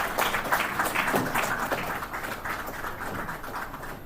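An audience at a chamber of commerce breakfast meeting applauds a guest of honor, a continuous, fairly loud wash of clapping that thins slightly toward the end.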